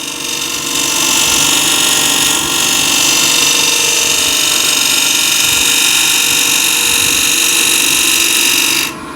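A scraper cuts into wood spinning on a lathe, giving a loud, steady whirring rasp from the turning workpiece that runs unbroken and then drops off sharply at the end.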